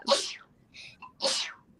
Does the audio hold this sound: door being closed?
no